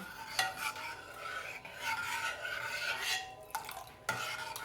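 A spoon scrapes and swirls around a pot of rice kheer with milk in steady, continuous strokes, with occasional sharper knocks against the side, close and moderately quiet.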